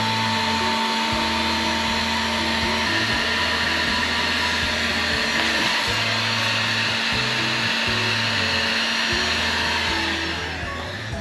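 A heat gun blows a steady, loud whirring hiss while heating PVC pipe, with a low droning hum shifting in pitch at irregular intervals, running almost unbroken before easing off at the end.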